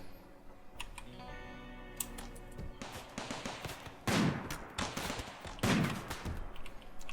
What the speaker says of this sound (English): More shots coming out down there.